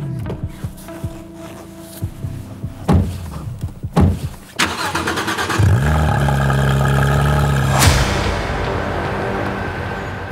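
A sports car's engine cranks and fires up before a test drive, settling into a loud, steady idle after a few sharp clicks and door thumps, with no talk over it.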